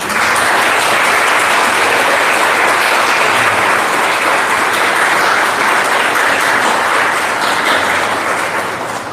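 Warm, sustained applause from an audience at a Spiritist lecture, loud and dense throughout, with no voices over it.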